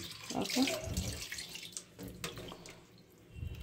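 Water from a tap runs over raw chicken in a bowl, a close splashing stream that swells and fades as the pieces shift, with a brief spoken word over it.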